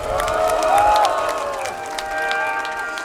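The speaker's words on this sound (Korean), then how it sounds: "큰 박수 한번 보내주십시오" Crowd applause at an outdoor political rally in Busan, steady and fairly loud for about three seconds, with tonal sounds and cheering voices mixed in over the clapping.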